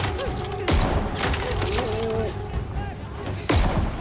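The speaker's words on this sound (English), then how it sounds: "Oh, they're up against firing squads. So they're going to shoot them." Gunfire from a firing squad in a Call of Duty video game, with several loud booming volleys spread across the scene amid game sound and music.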